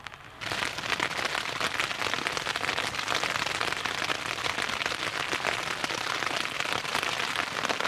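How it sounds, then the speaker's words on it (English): Rain begins and keeps drumming on a backpacking tent in the High Uintas wilderness of Utah, a dense, close, steady patter of countless drops with no voices. "So we've been tent bound for about 2 hours now with this rain."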